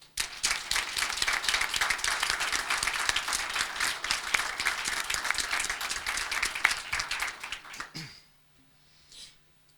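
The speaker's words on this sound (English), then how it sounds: "Please join me in honoring the above recipients with a small round of applause." Council meeting audience applauding department award recipients, a sustained burst of many hands clapping loudly for about eight seconds before breaking off abruptly into near silence with a faint stray sound.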